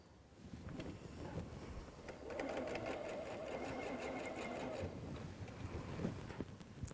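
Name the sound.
sewing machine sewing quilt seams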